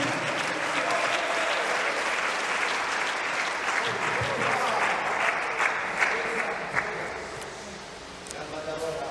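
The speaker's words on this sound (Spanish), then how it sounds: "No, si la veo que pocos aplauden con esto." A church congregation applauds steadily throughout, a dense wash of many hands clapping at a sermon, with some voices mixed in under the applause.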